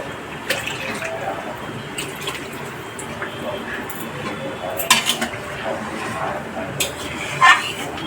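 Water is poured into a cooking pot of dhoka curry with potatoes, a trickling splash mixed with clinks and knocks of metal pots and utensils, with faint voices in the background.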